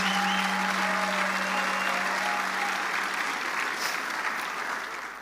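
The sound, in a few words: applause for a teacher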